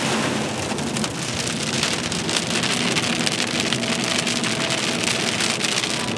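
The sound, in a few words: rain falling in the mountains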